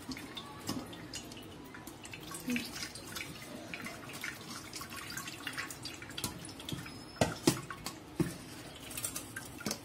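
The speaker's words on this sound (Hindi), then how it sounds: "देख सकते हैं अच्छे से निकल रहा है पानी नीचे" Pani puri water strains through a sieve in a kitchen, giving soft, irregular drips and small splats that are faint and close, with a few sharper drops near the end.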